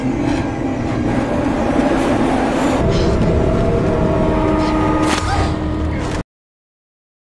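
A train rolls steadily along the tracks, a loud continuous rumble with rail clatter and a brief high squeal, running for about six seconds before cutting to silence.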